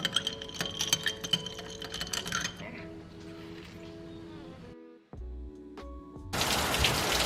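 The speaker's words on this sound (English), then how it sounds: "Now it is raining" Rain falls in a steady wash of patter, mixed with kitchen clinks and shifting background noise, and grows louder and hissier near the end.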